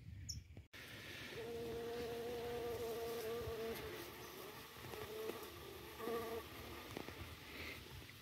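Phorid flies buzzing inside a stingless bee hive box, a steady insect drone with tonal whine that rises and fades over several seconds, close and continuous with no talking.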